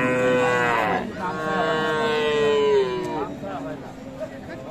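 A Friesian cow moos at a rural cattle market in Dinajpur, with two long, loud, close lowing calls over soft crowd murmur and background talk.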